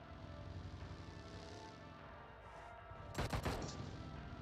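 Gunfire in PUBG Mobile cracks out as a short loud burst of several rapid shots near the end, after a stretch of low engine and ambient game noise.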